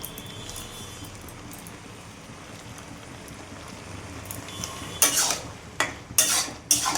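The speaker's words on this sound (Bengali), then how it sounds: "গরম মশলাটা দিয়ে নেড়ে চেড়ে নেব, নাড়লেই হয়ে যাবে।" A soybean and onion curry gets stirred with garam masala in a pan. A soft low sizzle runs quietly for a while, then several close, brisk scraping strokes of the spatula follow near the end, with no voices.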